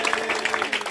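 A church congregation claps hands together during a lively worship service, a dense, steady wash of many hands close by with voices mixed in.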